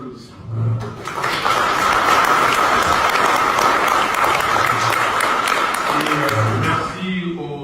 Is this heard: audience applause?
yes